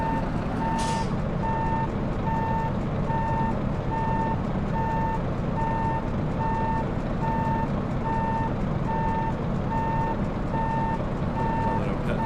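Steady reversing beeps from a heavy haulage truck parking a load in Euro Truck Simulator 2, pulsing evenly over a loud rumbling engine drone for the whole stretch.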